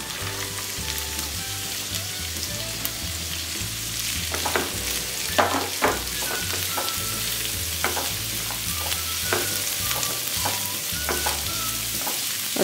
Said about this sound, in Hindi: और हाई फ्लेम में 2 मिनट सॉल्टी कर लेती हूँ।